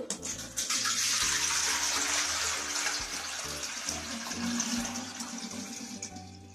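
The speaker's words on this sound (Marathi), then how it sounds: "आणखी ड्रम मधले पाणी पुन्हा दुसऱ्या गुंडामध्ये हळूहळू घालू।" Water pours slowly from a drum into another metal pot in a close, continuous splashing gush with a gurgling undertone. The flow eases slightly toward the end.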